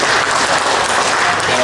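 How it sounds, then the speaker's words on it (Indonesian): An audience at a religious dialogue gathering in a church hall claps together for an Islamic teacher, producing a loud, dense, continuous wash of applause close up. "saya mohon untuk Ustadz kita tepuk tangan bersama"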